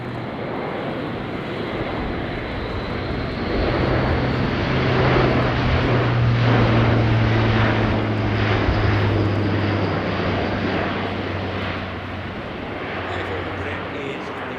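German Air Force Airbus A400M Atlas turboprop flying a display at an airshow, its propeller drone swelling as it passes nearer mid-clip and then fading, with a commentator talking over it.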